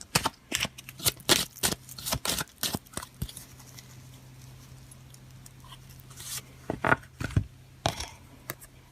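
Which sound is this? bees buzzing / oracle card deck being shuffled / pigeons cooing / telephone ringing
oracle card deck being shuffled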